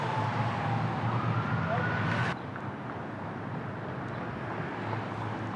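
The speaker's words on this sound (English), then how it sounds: "I hear sirens somewhere." Distant sirens from an emergency vehicle on a city street, a faint rising wail that cuts off partway through, leaving low traffic noise.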